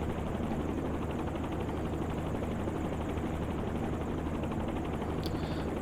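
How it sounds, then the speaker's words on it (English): A helicopter glides in a flight simulator game, with its rotor giving a continuous, even, throbbing drone that stays steady and moderately loud from start to finish. "that's your helicopter gliding"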